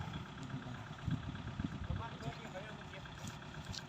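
A plough tractor's engine idles steadily in a sandy farm field, a low rumbling drone with faint irregular knocks, while muffled voices murmur in the background.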